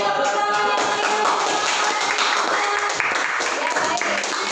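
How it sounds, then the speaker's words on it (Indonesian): Students applauding in a classroom, a dense, sustained wash of many hands clapping at once with voices mixed in. "Beri tepuk tangan yang meriah."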